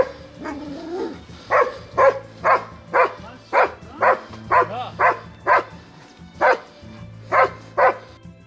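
Hunting dogs on a fallow deer hunt in Bulgaria give a run of sharp, evenly spaced barks, about a dozen in sequence, loud and near, with a low rumble underneath and no talk.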